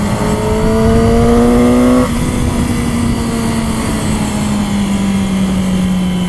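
A super sport motorcycle engine drones loudly and close, its pitch climbing through a rev, shifting at about two seconds, then holding a steady high whine that eases slightly.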